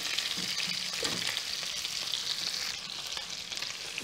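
Pork pieces pan-frying and browning in hot oil give off a steady, dense sizzle, close and loud throughout, with faint scraping of a spoon and no voices.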